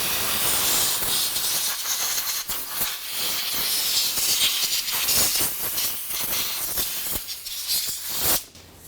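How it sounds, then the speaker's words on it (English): Compressed air blowing penetrant into a fuel pump lock ring on a 2008-2012 Jeep Liberty, a loud continuous close hiss lasting several seconds before cutting off abruptly near the end. "We're just going to add a little bit of air."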